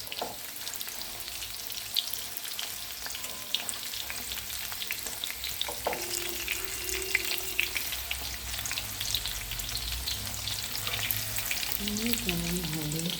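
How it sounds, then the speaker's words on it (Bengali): Chicken pakoras fry steadily in hot oil with a dense, even bubbling hiss. Occasional soft knocks come as the pieces are turned over. "এক পিঠ ভাজা হয়ে গেলো, এবার অন্য পিঠ এগুলো আস্তে আস্তে উল্টে দেওয়া হচ্ছে।"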